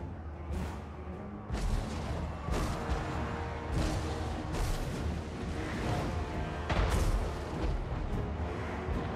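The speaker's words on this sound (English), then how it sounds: "this like sounds like cannons a little" Heavy booming cannon blasts in a video game roll over a dense, noisy battle din, several big thumps spaced a few seconds apart, loud and continuous.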